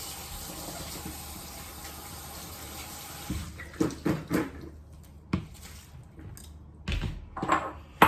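Tap water running into a sink while chicken pieces are washed, a steady stream at first, then irregular splashes and knocks as the meat is handled, with a short clatter at the end.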